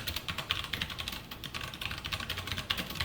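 Rapid, steady typing on a computer keyboard with dense clustered key clicks close by, heard on its own without any talking.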